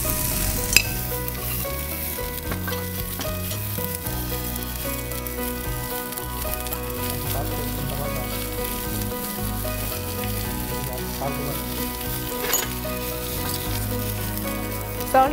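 Boiled vegetables hit a hot pan and are stirred, giving a loud, steady sizzle and frying hiss close up, broken by occasional scrapes and stirring sounds, with no talk.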